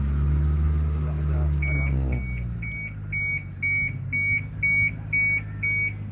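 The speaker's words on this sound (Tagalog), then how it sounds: "Naka-alarm pala yan." A steady series of short, evenly spaced electronic beeps, about nine in a row, sounding over a low rumbling background with some muffled talk.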